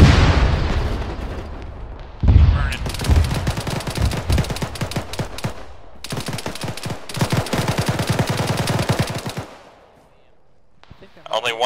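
Machine gun fire in the military video game Arma, loud rapid bursts with booming impacts in several long stretches, tapering into quiet near the end, with voices talking at times.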